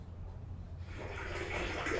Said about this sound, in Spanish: Pero el agua corre por el tubo y va corriendo por allá hasta bajar a donde está la cisterna.